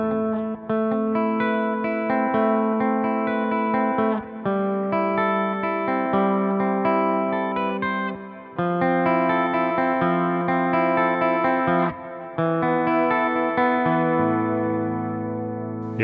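Clean electric guitar played through the Neural DSP Archetype Rabea plugin with reverb and delay, ringing chords and arpeggiated notes that sustain and trail off, with brief pauses between phrases and no talking.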